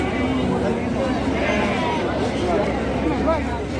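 Goats bleating amid a busy outdoor livestock market, several calls rising over crowd chatter and steady background noise while people talk nearby.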